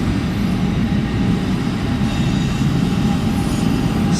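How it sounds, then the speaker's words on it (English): A train on the Morris and Essex line at Denville station, New Jersey, heading west, gives a steady, loud low rumble throughout with no clear clatter or horn and no talk. "this train is operating on the Morris and Essex line"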